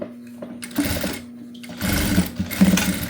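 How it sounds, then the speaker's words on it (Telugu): Sewing machine stitching a prince cut blouse, running in short close bursts of rapid mechanical whirring separated by brief pauses. "చివరి నుంచి మళ్ళీ క్రాస్గా ఒక స్టిచ్ వేసుకోవాలి"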